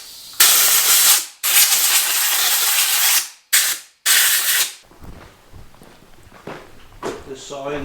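Compressed air blasts out the bar channel around the chain on a Husqvarna 565 or 562XP chainsaw during routine maintenance, several loud close hissing bursts with short gaps, followed by quieter handling clatter.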